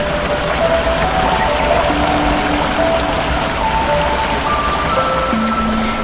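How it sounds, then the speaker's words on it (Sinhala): Water at Chimney Pool in Horton Plains streams and splashes steadily, a dense, close, continuous wash with faint higher trickling tones on top. "මේ ප්ලේස් එකේ වතුර හරිම හිමින් තමයි ගලාගෙන යන්නේ."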